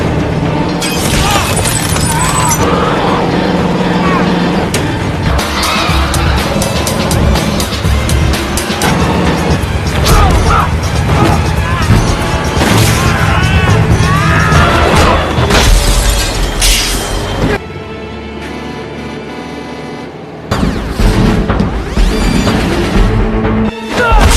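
Fight and crashes on a container truck in the film The Transporter: loud continuous action sound with repeated impacts, shattering and booms over roaring vehicle noise, dropping out briefly before resuming.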